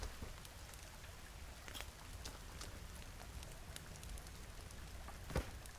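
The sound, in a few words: rain in the video game The Forest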